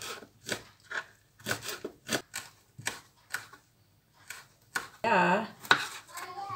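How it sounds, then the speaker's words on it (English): A knife chops fresh rosemary leaves on a board in a home garden kitchen, making a run of close, crisp, irregular taps. A voice speaks briefly near the end. "And then I just chop that."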